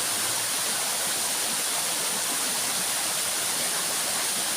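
A waterfall at a reservoir in a hilly village area, a steady, dense rushing roar of falling water that stays loud and unbroken throughout.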